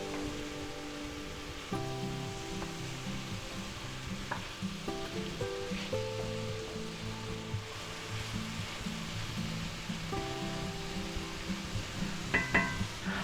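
Black pepper chicken and mushrooms sizzle in a pan while being stirred, a steady frying crackle with scraping and clinking of the utensil, close, and a soft tune playing underneath.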